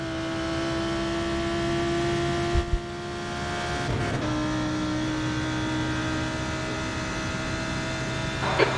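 A GT race car engine in a sim racing game drones steadily at a high pitch, holding a nearly constant note with a brief dip and shift partway through, loud and continuous with no talking.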